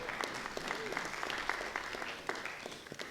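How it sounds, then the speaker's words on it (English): Applause from attendees at an Abington annual town meeting, a steady mid-level patter of many hands with a few sharper claps standing out, lasting a few seconds with background murmur. "You can give them a round of applause."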